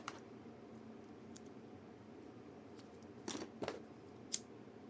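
A few quiet snips of scissors cutting crochet yarn come close together near the end, after a soft handling rustle in a quiet room.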